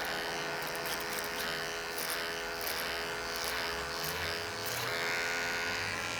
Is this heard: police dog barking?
no